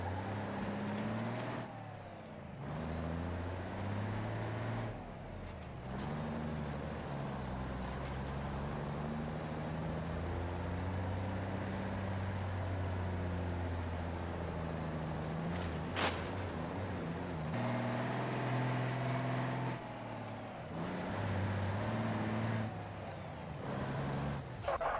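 A truck with a damaged radiator drives in a video game: a continuous engine drone with shifting revs and short breaks, a sharp air-brake hiss partway through, steady and moderately loud with no talking.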